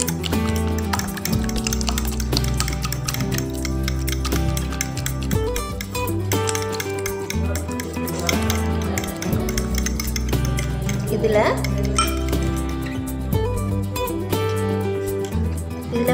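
Eggs being beaten with melted butter in a bowl for an almond cake, a busy stream of clinking and tapping of utensil against the bowl, steady and close, with background music underneath.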